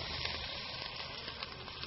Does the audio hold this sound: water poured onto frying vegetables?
yes